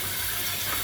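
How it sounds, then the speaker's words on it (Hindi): Hot water splashes steadily into a water bottle during cleaning, a brief continuous pouring rush heard up close. "अभी गर्म पानी जो है वो इसमें डाल के"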